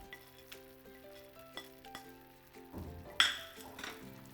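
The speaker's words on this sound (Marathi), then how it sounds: "छान मिक्स करून घ्यायचे." Almonds and cashews stirred through wheat flour sheera in a pan, a soft scraping sizzle with light clinks of the spoon against the pan, growing busier and louder toward the end.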